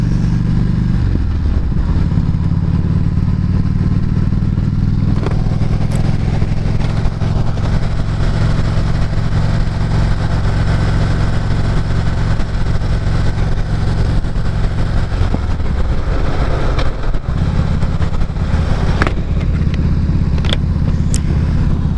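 A new motorcycle ridden on an open road, its mid-pitched engine droning loud and steady for the whole stretch under constant wind rush, with gear changes briefly shifting the tone.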